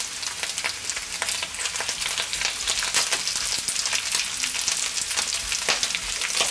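Sliced potatoes fry in a pan for Bratkartoffeln, giving a steady, dense sizzle with crackling pops throughout, close and continuous with no talking.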